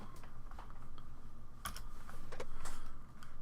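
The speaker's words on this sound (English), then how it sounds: "Press X on the keyboard" Soft, faint clicks from a computer keyboard as keys are pressed, a few scattered taps over a steady low hum with no voices.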